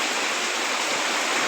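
Heavy July village rain under a dark sky roars as an even, loud wash of water sound, steady throughout with nobody talking.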